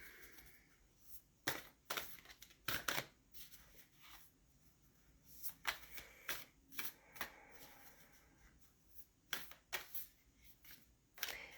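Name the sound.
shuffling tarot cards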